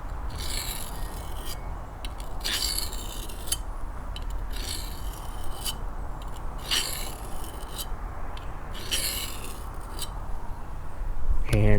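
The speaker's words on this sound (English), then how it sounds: "the sound of sharpening a knife is like nails on a chalkboard to them, but to me it's a very relaxing sound" A knife is sharpened on a small wallet-sized diamond plate, with repeated gritty scraping strokes in a steady rhythm, close and fairly loud, over faint background noise.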